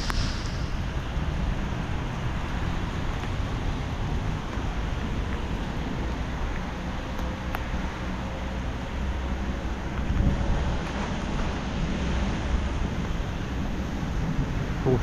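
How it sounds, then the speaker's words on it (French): Heavy rainstorm pouring over Sidi Bel Abbès, Algeria, a dense, steady broadband hiss that stays constant and fairly loud throughout, with no voices. "La pluie est au rendez-vous à Sidi Bel Abbès."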